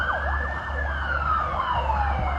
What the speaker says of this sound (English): What the hell's going on? All these sirens.